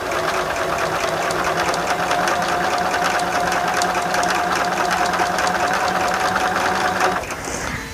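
A sewing machine stitches quilt pieces for a Martha Washington Star block in one continuous, loud, rapid mechanical chatter lasting about seven seconds, then slows and stops, close up.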